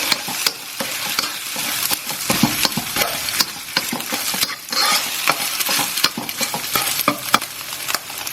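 An egg being broken up and stirred in a hot wok for Thai fried rice: loud, continuous sizzling with rapid, irregular scraping and clacking spatula strokes, close and without talk.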